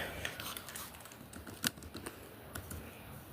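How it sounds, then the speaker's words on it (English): Someone typing on a computer keyboard produces faint, quick, irregular key clicks with one sharper tap, quiet and close against low room noise. "let me type it in"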